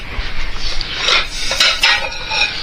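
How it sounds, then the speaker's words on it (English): A slotted spoon scrapes and clinks against a pot while green beans are drained, with a few sharp metallic taps and rubbing scrapes close by in a kitchen, moderately loud and without talking. "I'm going to drain. I've got a slotted spoon for the green beans"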